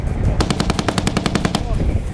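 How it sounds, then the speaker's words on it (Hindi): A machine gun fires a rapid burst of about a dozen sharp, evenly spaced shots during army drills, loud and close, over a rumbling outdoor background. "बारूद बरसाते घातक हथियार, गोलियों की तड़तड़ाहट, धमाकों से थर्राता पूरा इलाका"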